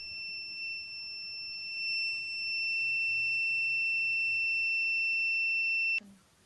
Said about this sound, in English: When there is an obstacle detection or a soil moisture detection, the buzzer gets turned on